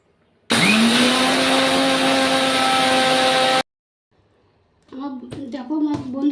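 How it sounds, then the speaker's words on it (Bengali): A mixer grinder whirs loudly for about three seconds as it grinds cooled roasted spices into powder, then cuts off abruptly; after a pause, a person speaks close by. "এবার আমি মিক্সার গ্রাইন্ডারে ঢেলে নেবো সব মশলাগুলোকে।"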